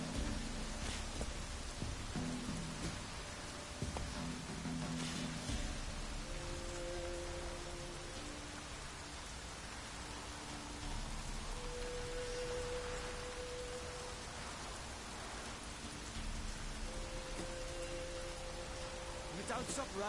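Steady rain falling and pattering on surfaces, a dense continuous hiss lasting throughout, with low rumbling and faint tonal background sounds beneath it.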